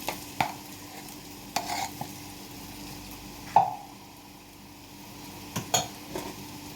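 Mashed potato is stirred into a sizzling curry in a pan, with several distinct spoon scrapes and knocks against the pan over a soft, steady frying hiss.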